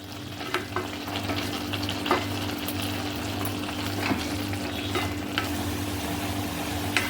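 Carrot halwa cooking down in milk in an open pan, a continuous bubbling sizzle under a low hum, with occasional scraping strokes of a spoon against the pan, close and moderately loud.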